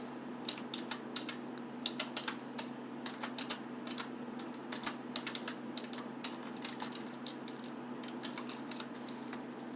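Rapid clicking of a computer keyboard as a client name is entered while installing an OpenVPN server from a bash script, steady close keystrokes alone over a low hum with no talk.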